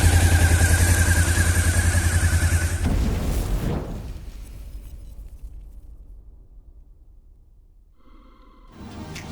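An old Honda CB-500 motorcycle engine roars loudly and close as it accelerates, then the sound fades into the distance before a quieter engine note returns.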